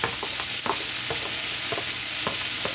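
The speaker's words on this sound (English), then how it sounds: "so I can get these onions cooking" Onions, serrano chilies and halved garlic cloves fry in a pan with a steady bright sizzle, punctuated by repeated soft scraping stirs at a loose, regular rhythm, close and without talk.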